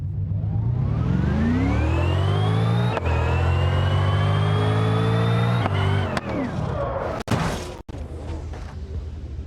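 A Bentley Continental GT3 race car in BeamNG Drive revs loudly with a rising engine note that climbs, drops and climbs again, then breaks into sharp impacts and crunching noise near the end, with no talking.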